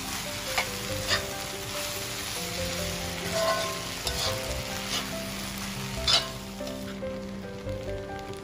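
Cooked wheat pasta being stirred into rice pulao in a hot pan: a constant sizzle with repeated scraping spoon strokes at an uneven rhythm.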